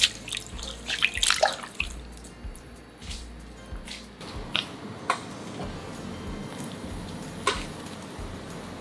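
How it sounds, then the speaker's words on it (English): Celery being washed and rinsed in a sink, with irregular water splashes, rubbing and small clicks up close, fairly quiet, with no talking. "After 5 minutes, wash and rinse the celery."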